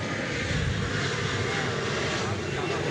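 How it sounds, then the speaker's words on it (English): Continuous roar of an American Eagle Embraer 175LR jet arriving at DFW Airport, a broad, steady engine rumble heard from a distance outdoors. "Here's an American Eagle plane coming in from Torreon, which I believe is in Mexico."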